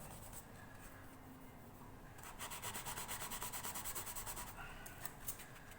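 Grime is scrubbed out of gouges in the fretboard of a Yamaha FG300A acoustic guitar, a close, quiet back-and-forth rubbing that turns into quick rhythmic strokes in the middle before slowing.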